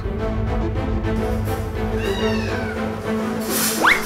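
An injured cat at a veterinary clinic gives a drawn-out meow and then a sharper rising cry near the end, close and clear over a steady background hum.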